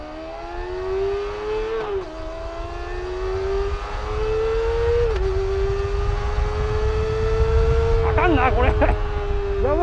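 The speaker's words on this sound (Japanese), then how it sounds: "回転数上がってくるとグワーンって音が出てくる。" A loud, close Kawasaki ZX-25R 250cc motorcycle engine drones steadily and climbs in pitch through several revving surges, its rough roar building toward the end.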